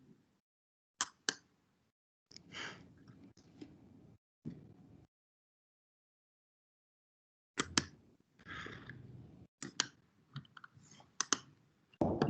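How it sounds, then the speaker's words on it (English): Sharp computer mouse clicks come in short, sparse groups of one or two, separated by long silent gaps. They are close and fairly quiet, with no voices. "I click again"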